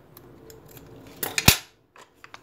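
Scissors snip through ribbon while a chanel-style bow is being finished, a few soft clicks followed by one crisp, close cut, then quiet with faint handling noises.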